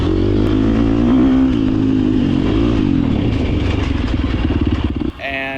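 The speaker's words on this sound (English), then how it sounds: "Mine happens to be dirt bike racing." A dirt bike engine drones loud and close, its pitch wavering and rising as it revs, then cuts abruptly near the end into a different clattering tone.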